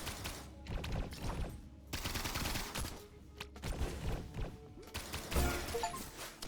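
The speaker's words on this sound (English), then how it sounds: "I just shot in the wrong direction." Rapid bursts of gunfire from the roguelike platformer Risk of Rain Returns, sharp repeated shots clustered in busy volleys with short pauses, loud and close, with no talking over them.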